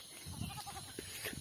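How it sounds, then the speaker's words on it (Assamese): A goat bleats while being led along on foot, a short, fairly faint wavering call over quiet outdoor background. "মই ছাগলী লৈ গৈ আছোঁ"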